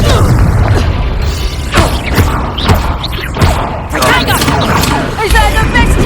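Confringo blasting spells go off in Hogwarts Legacy during a duel: repeated booming explosions and crashing thumps burst one after another, loud and close, amid other spell effects and a voice talking over the action.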